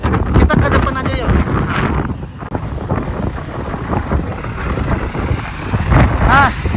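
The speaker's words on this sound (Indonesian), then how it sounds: "Ini angin cukup tinggi teman-teman, cukup kencang, cukup tinggi." Strong wind buffets a fast boat on the open sea, a loud rough roar over the microphone with gusting swells and engine-like rumble beneath, while people talk intermittently nearby.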